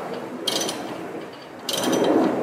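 A ratchet wrench snugs down a lawn mower blade bolt, two short bursts of quick metallic clicking close up, with faint handling noise between them.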